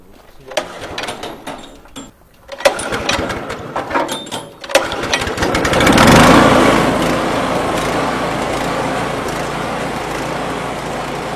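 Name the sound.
garden shredder grinding freshly cut plant branches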